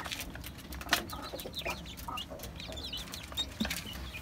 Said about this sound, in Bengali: মুরগি আর ব্রয়লার মুরগিগুলা খুব এক জায়গাতেই থাকে